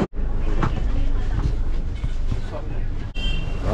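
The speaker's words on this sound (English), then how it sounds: "Right, so here's the train." Indian passenger train at a station platform, a steady loud rumble of carriages with faint wheel clatter, crowd noise and voices underneath throughout.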